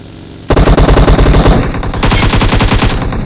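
Loud, rapid automatic-weapon fire in the mobile shooter PUBG Mobile: after a short quiet lead-in, a dense, continuous burst of rhythmic shots hammers on to the end, with no voices.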